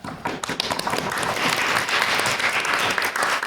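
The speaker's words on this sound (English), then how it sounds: "I'd like to give a round of applause again for our winners of the Shannon" Applause for the winners of a debating competition builds from scattered claps into a dense, steady round from a nearby crowd.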